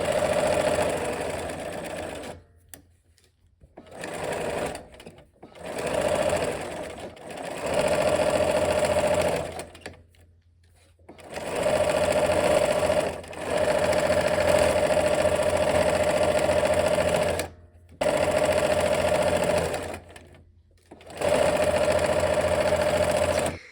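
A sewing machine stitches quilt seams in repeated bursts, a loud rapid whirring hum that runs for a few seconds and then stops, with short silent gaps between runs.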